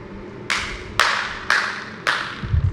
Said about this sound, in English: Can you come in front and clap?